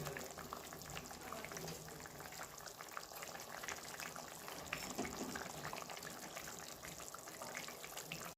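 A pot of fish curry with fish and green chillies simmering, a continuous soft bubbling and hiss of boiling liquid that stays even and fairly quiet throughout.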